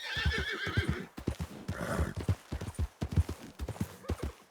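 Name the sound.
horse neighing and hooves clip-clopping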